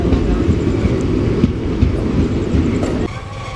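Passenger train 17248 on the Dharmavaram to Narasapuram run rolls out of Venkatagiri toward Gudur Junction, a loud, close, continuous rumble with clattering wheels over rail joints, easing slightly near the end.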